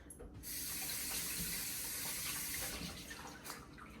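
Tap water runs steadily into a kitchen sink for a few seconds while mini peppers are rinsed, a close, even splashing stream that cuts off near the end.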